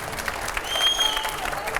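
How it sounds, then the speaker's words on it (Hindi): An audience claps in welcome for Mamta Kulkarni at a televised gathering, with a dense, moderately loud spatter of applause and faint crowd murmur continuing for the whole stretch. "स्वागत, जोरदार तालियां।"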